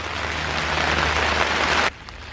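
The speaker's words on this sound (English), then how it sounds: "sorry about the rain sound" Dense, steady patter of rain hissing on a surface, then cutting off abruptly near the end, leaving a quiet background.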